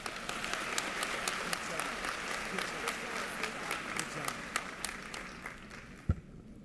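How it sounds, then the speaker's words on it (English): An audience at a 2022 graduation ceremony applauds steadily, many hands clapping in a dense, even patter that carries on for several seconds before fading out near the end. "So let's give her another round of applause."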